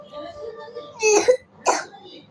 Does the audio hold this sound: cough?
yes